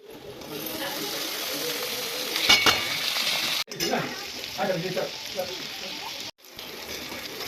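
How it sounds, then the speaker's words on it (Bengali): Catla fish heads frying in a pan for a Bengali mung dal, a steady loud sizzle with crackling bursts and stirring scrapes, briefly cut by two short gaps. "এখানে দেখো আমি মাছের মাথাগুলো দিয়ে দিয়েছি।"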